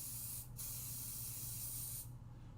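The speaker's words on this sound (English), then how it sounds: "Let me use some pixie spray because this is a very delicate stencil." Pixie spray hisses from a can onto a delicate craft stencil in one continuous burst, close and fairly quiet, and the spray cuts off sharply at the end.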